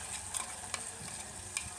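Ground masala paste fries for a mutton curry, a soft steady sizzle with a few quick stirring clicks, close and fairly quiet, with no talking.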